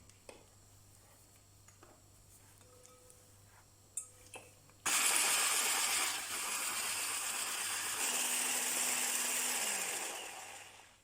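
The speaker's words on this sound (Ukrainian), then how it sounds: "В миску переміщаємо холодні вершки і збиваємо їх міксером." An electric mixer whips cold cream in a bowl for a banana mousse cake filling. The motor kicks on abruptly as a loud, steady whirring drone, dips briefly, runs on evenly, then winds down near the end.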